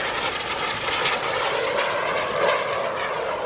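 FLS MicroJet, a tiny single-seat jet with a 17-foot wingspan, making a fast pass across the field at about 220 knots at the Greenwood Lake Airshow; a loud steady jet roar with a slight swell as it passes.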